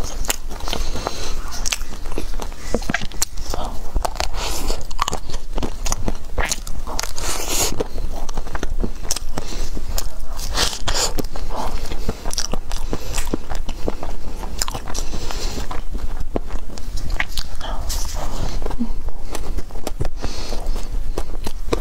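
Bear-shaped cookie biscuits are bitten and crunched close to the mic, a steady run of crisp, crackly chewing that continues throughout with no talking.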